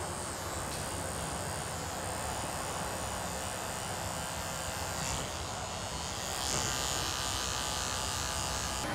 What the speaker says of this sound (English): I want to come back with this clipper and just kind of go over the head again.